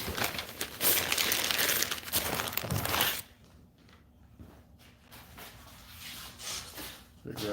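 Plastic packaging crinkling and crackling loudly as a dull knife cuts it open, then quieter rustling and handling noises after a pause, with someone talking over parts of it.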